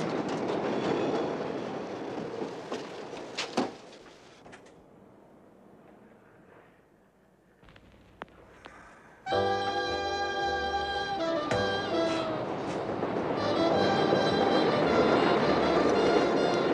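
A train rumbles past nearby with rhythmic clacking, fades to a quieter stretch, then returns loudly with squealing wheels and steady rolling noise.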